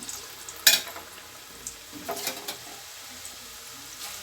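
Murukku dough made with roasted gram crackles and sizzles in hot oil in a wide pan with a steady frying hiss, punctuated by a few sharper pops and light stirring sounds.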